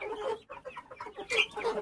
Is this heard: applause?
no